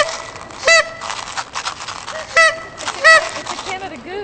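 A person vocally imitating a Canada goose, giving several short nasal honks in separate bursts, loud and close, amid a noisy crowded setting during a musical record-attempt performance.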